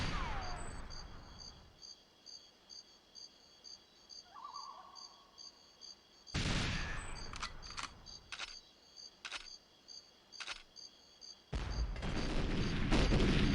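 Sharp bursts of gunfire in GoldenEye 007 on the Nintendo 64 hit gun turrets in short loud clusters, broken by quieter gaps filled with a faint insect-like ambient hum.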